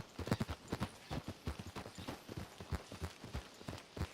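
Horses gallop in Red Dead Redemption 2, a rapid, steady clip-clop of hooves pounding close by in a quick repeating rhythm, with no voices over it.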